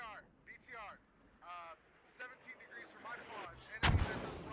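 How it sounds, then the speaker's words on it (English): Mortar fire in the video game Squad lands as one sudden heavy boom near the end, loud and close, following a stretch of voices talking over faint background noise. "These mortars from Karma are absolutely on point right now"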